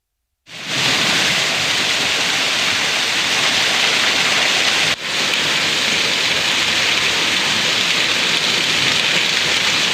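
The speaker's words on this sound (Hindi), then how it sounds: "इलाके में भारी बारिश ने शहर के सड़कों और नाले की सूरत को बदल कर रख दिया है।" Heavy rain falling in Madhubani, Bihar: a dense, loud, steady hiss of downpour that starts abruptly after a brief silence and continues unbroken, with a momentary dip midway.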